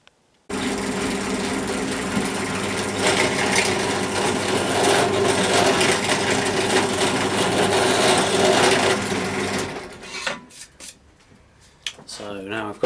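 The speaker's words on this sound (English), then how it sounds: "now I've got all the holes drilled in the HDPE to mount everything on" A drill bores holes in HDPE plastic in a workshop shed, giving a loud, continuous whirring grind that runs for about nine seconds before cutting off into scattered clatter.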